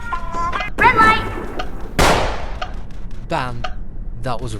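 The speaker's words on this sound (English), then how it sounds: "Bam! That was a real gunshot." A single sharp gunshot in the Roblox Squid Game video game cracks out loud in the middle, fading quickly, with a voice talking before and after it.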